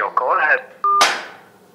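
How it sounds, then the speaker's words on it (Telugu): A telephone dials out to a member of parliament for a live morning news call, with a short electronic tone followed by a bright ringing burst that fades. Voice-like sounds come just before the tones. "మార్నింగ్ న్యూస్లోకి వెళ్ళి మనం ఫోన్ చేస్తున్నాం."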